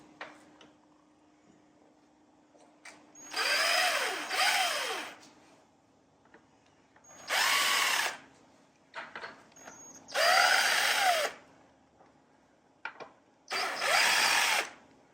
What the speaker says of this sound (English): Now I can use the impact wrench now to take the rest of the way off